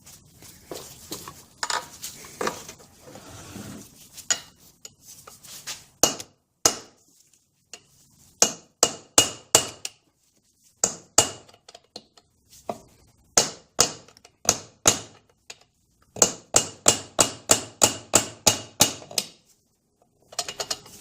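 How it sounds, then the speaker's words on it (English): Repeated metal hammer strikes drive a pin out of a 1971 Johnson 25 HP outboard powerhead, loud sharp clanks in irregular bursts, then a fast steady run of blows near the end. "Let's try hammering it out some more."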